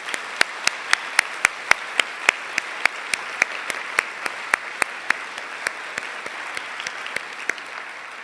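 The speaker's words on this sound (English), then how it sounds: "can we just give them all another round of applause?" Sparse, evenly spaced claps ring out one after another at a women in the built environment event, a thin round of applause with sharp distinct hand strikes over a quiet room.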